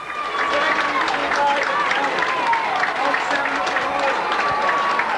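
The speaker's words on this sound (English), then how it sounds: "getting a wonderful reception from the Clane crowd here, and there are lots of them" A large crowd at a minor football championship final in Kildare cheers and applauds the winning team as they receive the trophy. Steady clapping and shouts blend under a commentator's talk.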